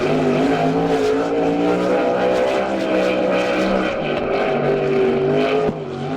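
A DIRT Sportsman Modified race car runs a time-trial lap at Ransomville, its engine a steady, loud, buzzy drone with harmonics shifting slightly as it circles, then a brief dip near the end.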